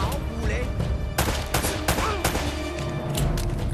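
Gunfire in the video game Uncharted, with rapid bursts of sharp shots in quick succession, loud and close, set over a busy game soundscape.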